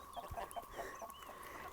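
A few chickens cluck softly and irregularly while being fed cabbage leaves, faint and close, with no talking.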